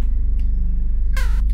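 A cat meows in the 2D video game Momodora, a short, close, clear game sound effect heard alone over a steady low background hum.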